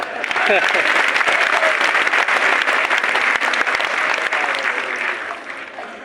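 A seminar audience at a Gujarati speech breaks into loud, sustained applause that fills the room steadily, then tapers slightly toward the end.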